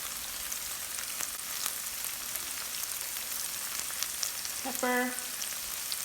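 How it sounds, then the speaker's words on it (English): Vegetables and tofu sauté in a Le Creuset pan with a faint, steady crackling sizzle and small pops, while a voice briefly speaks. "saute my vegetables and tofu"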